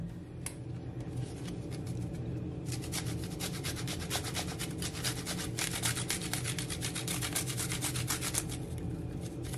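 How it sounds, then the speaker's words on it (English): Garlic and ginger are grated for seafood chow mein, a steady close scraping rasp that runs continuously with rapid rhythmic strokes over a low background hum. "now I'm gonna grate my garlic and my ginger."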